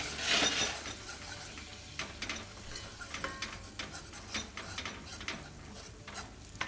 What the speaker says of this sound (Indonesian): Segera diaduk supaya tidak menggumpal.